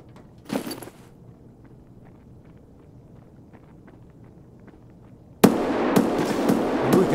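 Grenade explosions in the game Escape From Tarkov: one sharp burst near the start, then a quiet stretch of faint ticks and steps before a loud, sustained blast with a rumbling tail.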